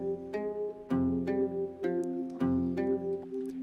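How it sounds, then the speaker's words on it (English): A produced beat in which a guitar carries the lead melody while a bell sound adds light accents in the background, over steady rhythmic hits that repeat roughly every half second, with no voices. "you can kind of hear how the guitar is the main leading instrument and the bell can work as more of an accent in the background"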